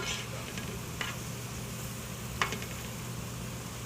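Onions frying in a pan, a steady low sizzle running throughout at moderate level, with a couple of brief utensil clicks and stirs over it.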